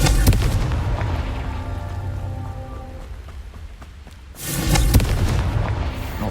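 A Confringo blasting spell in the Hogwarts Legacy video game, a heavy booming explosion at the start and another burst near the end, with crackling debris between them.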